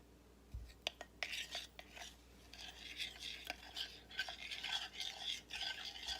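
A utensil stirs softened chocolate after microwaving, with soft scraping swirls and a few sharp taps against the bowl, faint and close.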